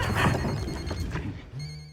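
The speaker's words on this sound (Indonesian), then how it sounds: "HP Dani yang tiba-tiba berbunyi membuat Iza berniat untuk mengambilnya" A mobile phone suddenly rings in a tense horror-film scene, its steady electronic ringtone starting near the end over a dense, noisy backdrop.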